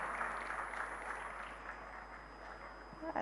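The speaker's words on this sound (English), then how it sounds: "Ladies and gentlemen, another round of applause for John." Audience applause in a convention hall at an international coffee buyers' event, a steady, fairly faint wash of clapping that holds for a few seconds without talk.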